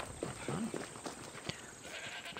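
A goat bleats in Assassin's Creed Odyssey, one wavering bleat close by over quiet game ambience, followed by a few soft clicks and faint background sounds.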